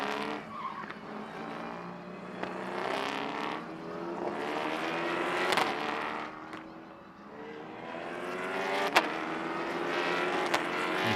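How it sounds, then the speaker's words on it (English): Endurance prototype race cars roar past one after another at MotorLand Aragón, engines rising and falling with sharp crackles and pops from unburnt fuel in the exhausts as they lift off the throttle. "There's a lot of overrun as the unspent fuel is burnt through the exhaust."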